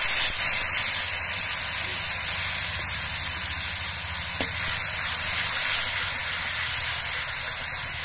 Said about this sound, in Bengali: পেঁয়াজের পেস্টটা দিয়ে আমি মিনিট 2-1 মতো ভেজে নিয়েছি